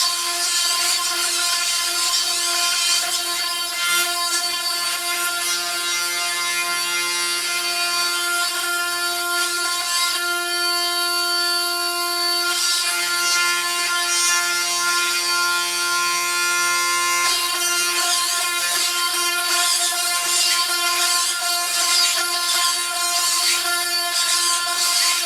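A gyroscopic linear propulsion device running with both gyroscopes oscillating gives a continuous high, buzzing mechanical whine with steady tones, wavering in intensity as the motion shifts.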